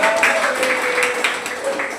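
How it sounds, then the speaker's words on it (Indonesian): Children in a classroom clap together at the end of a game, with brisk clapping mixed with voices and a few higher calls. "Tepuk tangan dulu."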